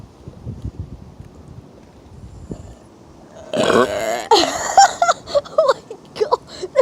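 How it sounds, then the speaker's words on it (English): Loud burps after chugging a liter of soda: a quiet stretch of soft breathing and rustle, then a long croaking burp followed by several shorter belches in quick succession, close to the microphone. "Man, look at the burps."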